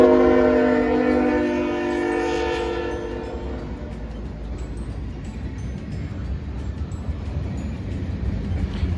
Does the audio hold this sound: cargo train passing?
yes